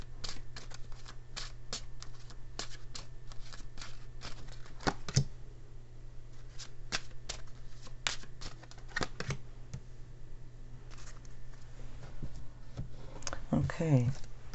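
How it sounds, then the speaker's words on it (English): Lenormand cards are shuffled in a series of quick, crisp riffling bursts with short pauses between them, close and faint, ending in a busier flurry. "I'm going to pull a couple of Lenormand cards here."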